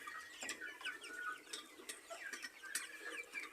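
Chickens on a poultry farm give short clucks and squawks in quick irregular bursts, fairly close and moderately loud, with no voices.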